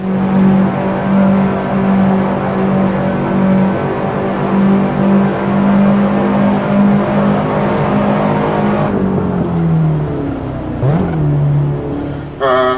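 A racing car's engine in the Assetto Corsa driving game drones steadily and loud throughout, holding a constant pitch before dropping and rising sharply near the end as the car shifts and brakes for a chicane.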